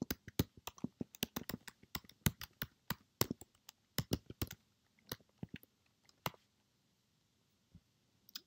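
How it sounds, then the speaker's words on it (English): Computer keyboard typing in short bursts of close, crisp key clicks with brief pauses between, thinning out toward the end; no talking. "So it looks like I need to type this exact phrase."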